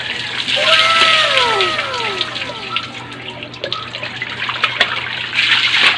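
Steady running water pours and splashes close by while hair is rinsed during a bath, with a continuous wash of sound and a few faint squeaky bits over it.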